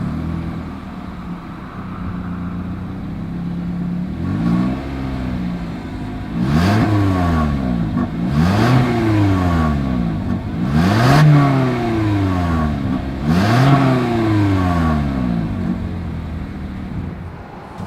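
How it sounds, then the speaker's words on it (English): A 2021 Toyota Corolla SE with a single exhaust idles, then revs four or five times in a row, each rise and fall sharp and loud, heard up close with no talking. "As always, here is that exhaust clip."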